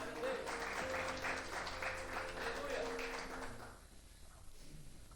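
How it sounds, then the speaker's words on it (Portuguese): A church congregation claps hands together in a steady rhythm during a worship song, with a sung or played melody underneath; the clapping fades out after a few seconds, leaving quieter background sound. "Palmas para Jesus!"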